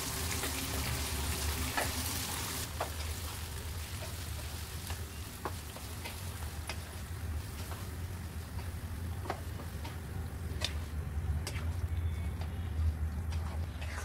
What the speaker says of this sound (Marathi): सगळ्या भाज्या परतून घ्यायच्या.